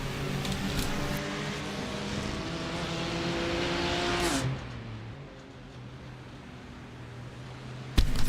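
A naturally aspirated four-cylinder race car engine in the iRacing sim at the Nürburgring, a loud sustained drone that rises in pitch, drops sharply as it lifts off, then idles lower before a sudden burst at the end.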